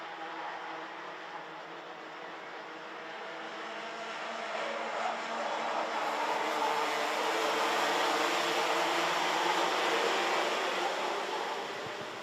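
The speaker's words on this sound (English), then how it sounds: "So the drivers now circulating their way through into turn 12." Race cars circulate on a racing circuit in a senior kart-style heat, a steady broad engine drone that swells gradually as the pack comes nearer, heard from a distance without talk.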